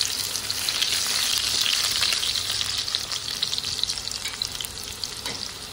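Crushed garlic and cumin seeds sizzle steadily in hot oil in a kadhai, a dense, continuous frying hiss with faint stirring scrapes, close and fairly loud throughout with no talking.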